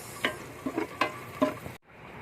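Garlic and onion sauté in butter for sopas, soft sizzling with a few stirring scrapes and light clinks of a spoon against the pan, fairly quiet, then a sudden cut.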